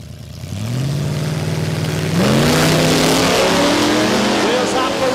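Heads-up drag racing cars launch side by side at Warwick Dragway in Australia, engines roaring and climbing through rising gear pitches, loud and close, with a commentator talking over them.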